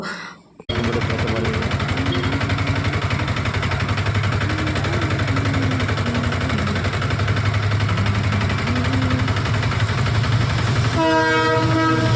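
A train rumbles past a level crossing steadily and loudly for the whole stretch, with a low continuous roar and a rising horn-like tone near the end.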